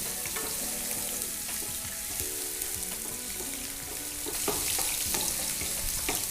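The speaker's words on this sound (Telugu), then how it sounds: "అది వెల్లుల్లి, అల్లం ఆయిల్లో సాటే చేసుకోవాలి." Garlic and ginger sautéing in oil in a pan, a steady close sizzle and crackle with spatula stirring throughout, no voices.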